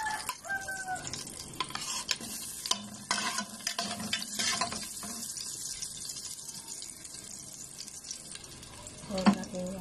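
Ginger sautéing for dinengdeng na labong, a faint crackling sizzle with scattered stirring clinks, a rooster crowing in the background and water running from a tap nearby.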